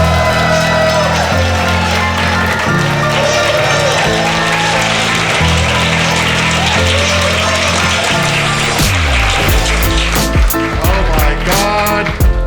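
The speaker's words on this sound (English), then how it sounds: "Please, a big round of applause for the hilarious Jeevin Gill." Stand-up comedy club crowd applauding and cheering as a comedian is introduced, loud and sustained over stage music, with a denser burst of clapping near the end.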